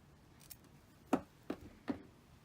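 Scissors snip through mesh ribbon for a Dollar Tree Cinco de Mayo wreath: a faint click, then three distinct close cuts spaced about half a second apart in a quiet room.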